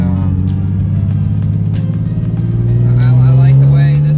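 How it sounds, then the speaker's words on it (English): A BMW E30 with a swapped-in M50 engine runs with a steady, deep droning hum that swells and climbs in pitch near the end, loud and close, while someone talks over it. "I like the way this motor sounds better."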